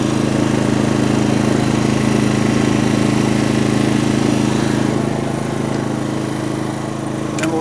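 A Honda 2800 watt inverter generator runs steadily close by, a loud even mechanical drone with a constant hum that eases slightly toward the end, no talking.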